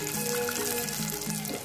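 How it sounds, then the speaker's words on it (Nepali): Cashews and raisins fry in ghee for a mutton biryani, giving a steady, close bubbling sizzle that stays even throughout, with a faint tonal hum beneath. "अब यो घिउमा काजु र किसमिस फ्राई हुँदैछ।"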